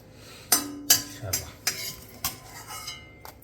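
Curry leaves stirred dry in a pan for rasam powder, a spoon sharply clanking and scraping against the metal several times at an uneven pace, close and fairly loud, with a faint crackle between the knocks.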